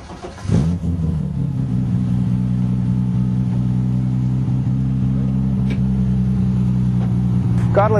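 A car engine roars steadily at high revs during drift practice for a race, with sustained harmonic drone, after a sharp rise near the start and a brief tire squeal toward the end.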